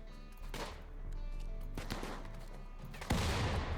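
A grenade exploding in a video game, a sudden loud broadband blast near the end after a few earlier gunshot-like thumps over a low game rumble.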